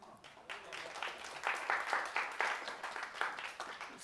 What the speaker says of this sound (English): I want you to give a great round of applause to Groxio